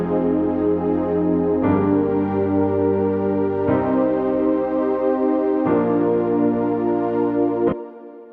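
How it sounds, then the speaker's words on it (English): A warm synthesizer pad in Logic Pro plays four sustained chords in sequence, each held about two seconds, smooth and steady with no other sounds. "So just held chords on the synth."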